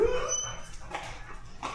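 A pit bull lets out short whimpering yips up close on a street, brief and faint against background noise.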